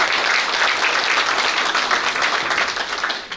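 An audience of local residents claps at a public housing compensation briefing, a sustained, even burst of many hands applauding together, fairly close and loud before easing at the end.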